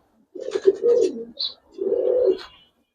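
Loft pigeons of the Gribaz coloring breed coo in two close, throaty phrases with a brief higher chirp between them, heard alone.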